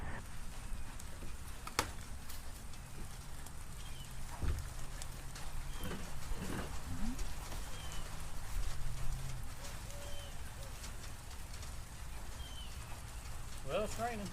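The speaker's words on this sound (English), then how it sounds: "Well, it's raining. Raining again." Rain falls steadily outdoors on a farm where fence poles are being pulled, a soft continuous patter across the whole stretch, with occasional knocks and faint bird calls in the distance.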